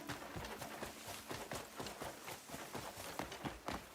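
Quiet, steady clip-clop of horse hooves in Crimson Desert, a quick rhythm over a constant background hiss, with no voices.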